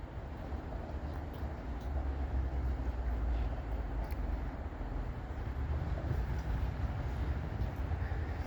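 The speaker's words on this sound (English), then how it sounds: "we have another train coming, and once again it's an NS westbound" A distant Norfolk Southern westbound freight train approaches as a low, steady rumble that swells gradually, with no horn, heard far off.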